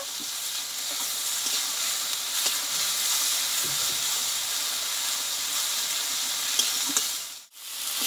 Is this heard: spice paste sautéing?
yes